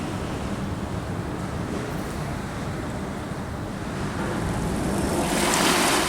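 Steady rush of the incoming tide washing over the Thames foreshore in London, water lapping continuously with wind noise, swelling slightly louder toward the end, no voices.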